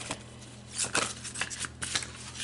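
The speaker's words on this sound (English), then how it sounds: "a little more shuffling" Soft riffling and snapping of a deck of tarot cards being shuffled, several quick bursts up close over a low background hum.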